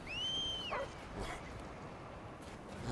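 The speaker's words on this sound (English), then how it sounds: "That tells the dog to attack." Dog companion in the video game Remnant 2 gives a loud, drawn-out whining yelp that rises and falls, then quiets, leaving low game ambience behind.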